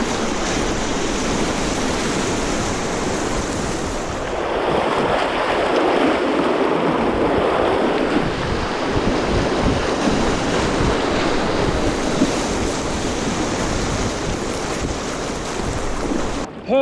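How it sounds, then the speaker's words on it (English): Rushing river rapids during a 450 km canoe expedition through a northern wilderness, a steady broadband roar of churning water with wind buffeting the microphone, swelling louder midway and continuous throughout with no voices. "rapids are fun"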